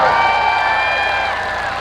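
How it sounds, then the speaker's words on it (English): A crowd at an SRX race night at Knoxville cheers and applauds for Hailie Deegan, a dense sustained roar with high whoops on top, loud and steady. "give her a round of applause here"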